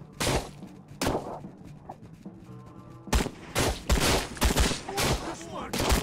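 Gunfire in the video game Trans-Siberian Railway Simulator during a night club assault: sharp, loud shots, single cracks at first, then rapid clustered bursts, with faint game sounds in the quiet gaps.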